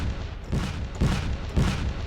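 Korg Triton Tricky Kit drum preset from the Triton plugin, as used in early-2000s hip hop, playing a few deep, booming kick-like hits with a short roomy decay, roughly every half second, with no voices.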